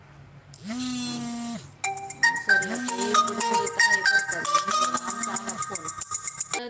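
A phone rings for an incoming call, opening with a long sustained electronic tone, then a bright, rapid melodic ringtone pattern that repeats up close and fairly loud.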